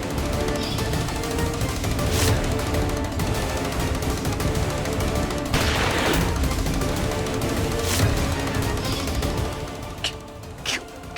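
Gunfire rattles through a dramatic scene, dense bursts and sharp cracks over a noisy rumbling background, loud and sustained, with a few distinct shots standing out near the end.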